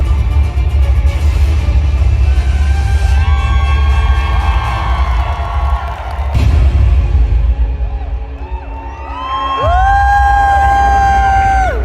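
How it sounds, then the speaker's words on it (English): A large crowd cheers, whoops and yells at a costumed fan ball after an aerial rig and fight performance, a loud sustained roar with shouts and whistles rising near the end. "The crowd was cheering."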